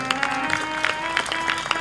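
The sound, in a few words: audience applause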